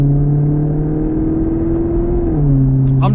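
A Maserati's engine hums steadily under load while driving, holding a smooth droning tone that shifts pitch once as the revs change, close and continuous.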